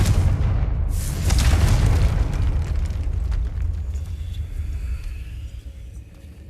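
Spell explosions in the Hogwarts Legacy video game, set in catacombs: loud, deep booming blasts with rolling rumble that settle into a fading roar, no speech.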